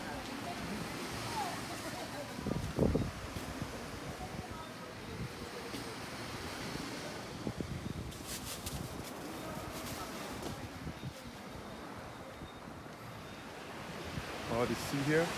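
Sea waves washing along the shore at night in Speightstown, Barbados, a continuous low rush of surf with wind noise and occasional voices and street sounds nearby, moderately faint.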